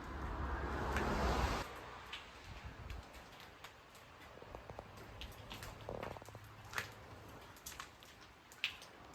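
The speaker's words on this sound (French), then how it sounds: "c'est que de la pluie qui fait du bruit" A burst of rain noise at the start gives way to scattered drips and light patter on surfaces inside an abandoned old bar-hotel, quiet and fairly close.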